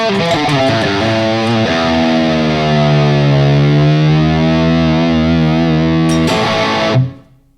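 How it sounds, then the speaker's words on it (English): An electric guitar played through the Soldano amp model of a Nux Trident multi-effects processor rings out loud and heavily saturated, with sustained distorted chords strummed for several seconds before cutting off abruptly. "Pretty nice saturated sound. Sounds like a Soldano to me."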